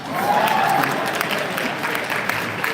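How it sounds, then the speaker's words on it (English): Crowd at a live community event clapping in a steady, moderate patter, with a voice heard briefly near the start. "Clap when I say fancy stuff like that."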